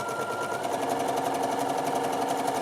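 Up close, a sewing machine zigzag-stitches over a cord for gathering thick fabric, giving a steady, rapid mechanical chatter at an even pace throughout.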